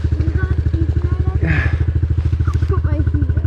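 A dirt bike engine, apparently a YZ65 or CRF450L, running close by with a rapid, even, pulsing idle throughout and a few quick revs, while people talk over it.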